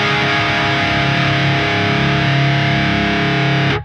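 Electric guitar through a Neural DSP Fortin Cali Suite amp, a loud, aggressive mid-range distorted tone sustained for nearly four seconds before cutting off cleanly, with no talking.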